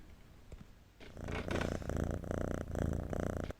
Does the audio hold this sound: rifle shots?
no